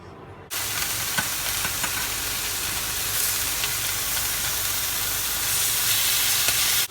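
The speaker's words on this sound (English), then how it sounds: "While your liver is sauteing" Chicken livers sauté in olive oil in a pan, a steady close sizzle and hiss that crackles now and then and swells louder toward the end.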